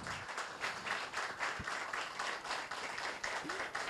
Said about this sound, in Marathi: जरा टाळ्या जरा जोरदार होत आहेत